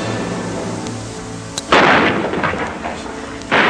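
Gunshot sound effect in a radio drama: a sharp loud bang followed by a rumbling tail, then a second burst near the end, set over a steady background hum with no talking.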